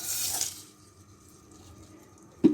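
A brief rush of water pours into a cooking pot at the start, then quiet room tone, ending with a short clunk nearby.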